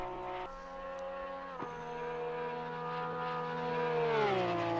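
A 2020 Porsche 911 GT3 R race car engine in Assetto Corsa Competizione at Imola holds a steady high-pitched whine, dipping briefly, then swelling louder and dropping in pitch near the end, with no talking.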